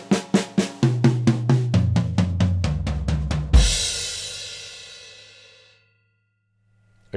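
A steady run of evenly spaced drum kit hits doubles in speed into a rapid roll, ending on a crashing cymbal that rings out and slowly fades.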